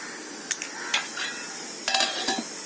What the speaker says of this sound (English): Here I have got a teaspoon of curry leaves powder, which I am adding to the dosa batter.